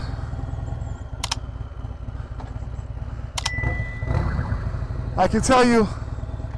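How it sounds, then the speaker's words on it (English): A turbocharged Trask Road Glide ST motorcycle idles and warms up with a low, steady exhaust rumble, with brief metallic clicks and a rising whine near the end while someone talks over it. "I already love the sound of the exhaust."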